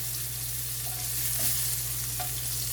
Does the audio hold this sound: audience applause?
no